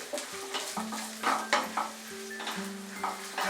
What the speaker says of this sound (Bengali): সয়াবিনটা দেওয়ার পরে আমি আরো 1 মিনিট এটাকে ফ্রাই করব মিডিয়াম আঁচে